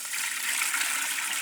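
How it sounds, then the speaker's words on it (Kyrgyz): A short, steady gush of water being poured out, a bright splashing rush lasting just over a second with no talking. "Азыр кайра сууну төгөлү."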